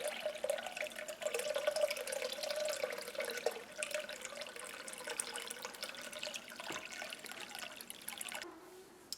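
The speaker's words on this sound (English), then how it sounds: "Now I'm going to fill this bowl up with water" Tap water runs steadily into a bowl, a faint continuous trickling splash that holds for about nine seconds and shifts slightly in pitch as the bowl fills, with no voices.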